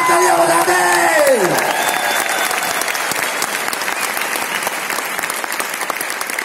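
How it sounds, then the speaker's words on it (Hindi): A big audience claps loudly and steadily at a business leaders' celebration in Varanasi, the applause dense and sustained after a voice and tones fade out at the start. "एक जानदार तालियां बजाते हैं।"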